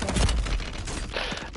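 A loud, close burst of rapid gunfire from the Call of Duty: Warzone video game rattles through a custom match, dense shots packed together in a short volley.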